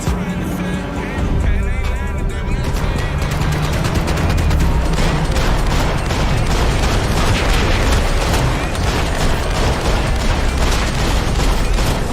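Rapid bursts of video game gunfire and explosions, loud and continuous through the whole stretch, with dense mechanical noise around them and no clear talk.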